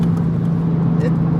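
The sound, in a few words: MK5 Supra 6870 engine revving through custom MK4 Supra exhaust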